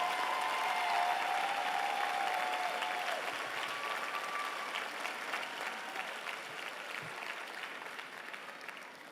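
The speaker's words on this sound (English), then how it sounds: "a big round of applause like you know they deserve it" An audience gives a long, full round of applause, a steady wash of many hands clapping at once that holds and slowly tapers, with hardly any voices over it.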